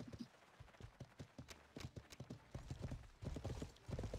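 A horse approaching in a multiplayer video game, its hooves clip-clopping in a quick, steady rhythm that grows slightly louder and closer, heard alone without talk.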